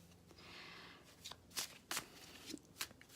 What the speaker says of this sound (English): shuffling here now the Gilded Tarot deck for you guys